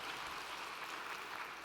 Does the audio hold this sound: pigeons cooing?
no